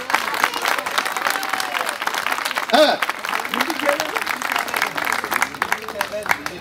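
Audience applause at a charity auction held by two Turkish associations, steady clapping from a crowd that runs throughout under an auctioneer's talk and some laughter.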